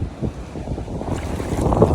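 Strong wind during a heavy rainstorm in Ras Al Khaimah, UAE, buffets the microphone in a continuous low roar with gusty surges, close and loud throughout.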